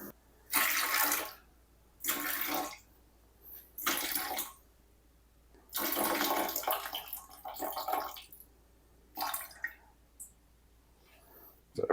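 Water poured out in several separate bursts for sourdough dough, loud splashing gushes with quiet pauses between them, and no talking.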